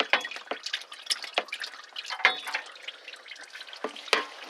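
Oil drips and trickles irregularly as the transmission pan comes off a Ford Expedition, with scattered small wet splashes and patters, quiet and close, with no talk.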